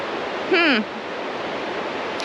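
River flowing through a forest in Umpqua National Forest, Oregon, a steady broadband rush of water heard close, with a brief bird call rising over it early on.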